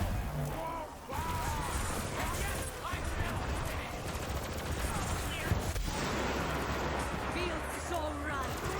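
SMG fire in Borderlands 3, rapid bursts of gunshots and impacts crackling through busy game noise, with someone talking over much of the action.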